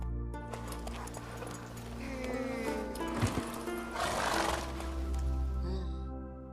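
A horse in The Witcher 3 video game lets out a loud, drawn-out whinny over a low game ambience, fading near the end.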